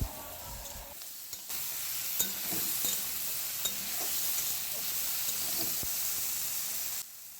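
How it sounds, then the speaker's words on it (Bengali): Ginger and chilli paste masala fries in a pan for a katla fish curry with potato, pointed gourd and long beans. A steady, close sizzle runs throughout with occasional stirring clicks, then stops abruptly near the end. "এবার এর মধ্যে দিয়ে দিলাম এক চামচ মতো আদা লঙ্কা বাটা ভালো করে এবার মশলাটা কষিয়ে নিচ্ছি"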